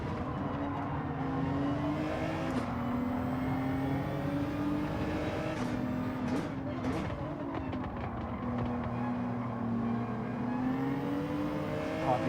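Racing cars in Gran Turismo 7 during an online lobby race, engines droning and rising in pitch with gear shifts, several cars overlapping in a continuous loud roar.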